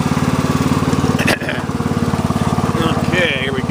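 A Snapper NXT lawn tractor runs close by in a yard, its engine putting out a steady, loud pulsing drone that dips briefly partway through, with a voice speaking faintly at the end.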